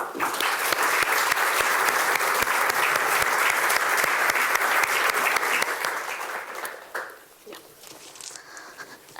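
An indoor audience at a talk on Gaza diaries applauds to welcome the speakers. The clapping is dense and loud for about six seconds, then thins out and fades to scattered claps and quiet movement.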